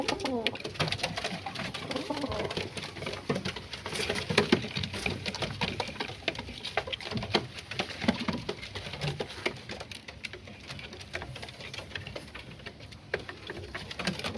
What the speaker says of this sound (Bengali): এই দেখুন একদম টপ টপ করে খাচ্ছে।